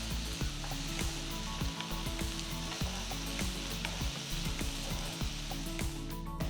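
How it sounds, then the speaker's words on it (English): Tomatoes sauté in a hot pan of oil for a South Indian garlic curry, a steady close sizzle and crackle punctuated by rhythmic scrapes and knocks of a spoon stirring against the pan, with no talking. "Saute the tomatoes for 5 minutes."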